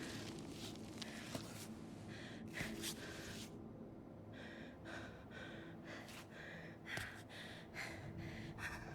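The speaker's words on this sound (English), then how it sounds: "Stop panicking. I can hear you breathing." A climber character in the mountain-climbing game Cairn pants and gasps in short, repeated breaths, with a faint scuffle of movement between them and no talking.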